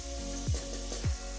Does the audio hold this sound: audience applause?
no